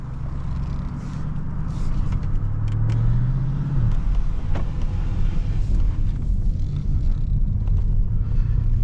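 A 2020 Porsche Panamera Turbo S E-Hybrid driving in Sport mode gives off a steady, close, low engine rumble with a brief rising tone partway through, all under constant road and wind noise.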